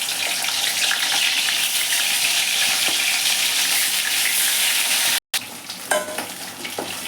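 Bhetki fish bones frying in hot mustard oil in a kadai give a loud, continuous sizzle that cuts out briefly, then returns with sharper crackles and pops.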